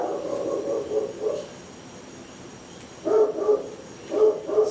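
A dog barks indoors in a home setting, a quick cluster of barks at the start, then a pause, then several more barks near the end, fairly close and clear.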